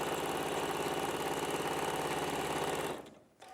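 A sewing machine runs steadily as it stitches a line down one side of a seam, with a continuous close, even mechanical whir that stops abruptly near the end.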